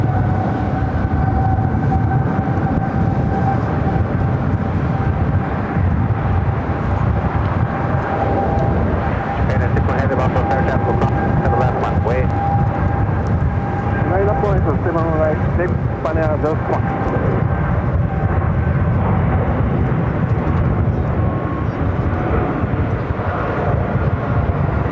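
An airplane roars down runway 7 Left at LAX on its takeoff roll on a windy day, a loud, constant engine rumble with faint voices at times.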